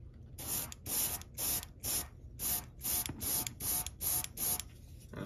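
Airbrush spraying paint onto a Warhammer Mantis Warrior miniature: about ten short, evenly spaced bursts of airy hiss, each lasting roughly a third of a second, close and fairly quiet with no talking.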